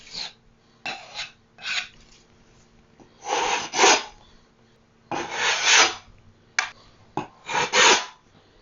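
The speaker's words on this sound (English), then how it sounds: "You can also scrape out the head of that thumbtack hole." A tool scrapes out a thumbtack hole in a painted wall, a series of short raspy scrapes in irregular bursts, close and alone.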